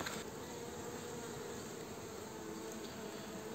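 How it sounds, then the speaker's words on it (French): Honeybees clustered at a hive on candy feed, a steady faint buzzing drone with no pauses and no voices. "les abeilles sont intéressées par le candy"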